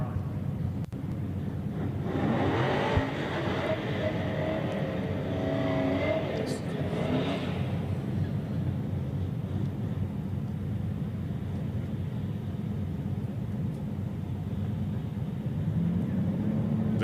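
Street drag race cars, a Camaro among them, roar past in a sustained loud engine rumble with rising revs through a gear shift, continuing as a steady roar over an outdoor strip.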